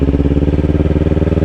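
A motorcycle engine runs close and loud as the throttle is rolled on in first gear during a beginner riding lesson, a steady rapid pulsing exhaust beat holding throughout with no talk over it.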